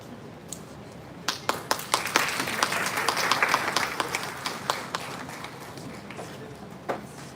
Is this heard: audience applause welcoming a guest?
yes